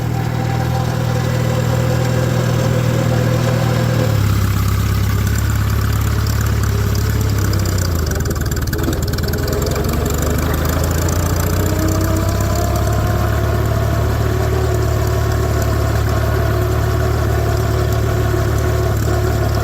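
A 1949 Farmall Super AV high-clearance tractor engine runs steadily for the whole stretch with a low, chugging hum that shifts pitch about a third of the way through and again later, close and loud with no talking.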